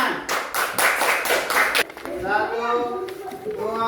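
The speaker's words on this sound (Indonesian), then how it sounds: "tepuk tangan untuk kelompok 2 pemenang ini" A group of children claps for the winning team in a quick burst of loud, close, rhythmic claps that ends abruptly, followed by a teacher talking.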